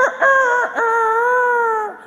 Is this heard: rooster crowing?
yes